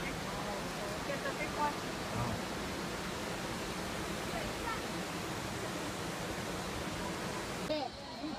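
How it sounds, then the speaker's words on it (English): Roaring waterfall heard from inside the falls at a Miao ethnic village area in China's mountains, a dense, steady broadband rush that stays loud and unbroken, with only a brief shift near the end. "Inside the waterfall."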